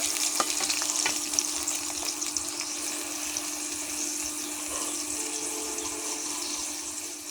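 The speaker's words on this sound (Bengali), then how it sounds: "আমি এর সাথে একটু জল মিশিয়েছি মশলা কষানোর জন্য" Blended spices with a little water frying in a pan for broiler chicken curry, a steady close sizzle and crackle that holds evenly throughout with a faint stirring scrape.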